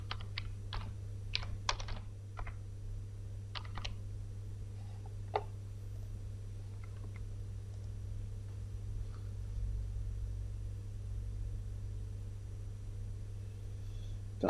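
Computer keyboard typing of a captcha code, a quick burst of light key taps followed by a few isolated clicks, faint over a constant low electrical hum.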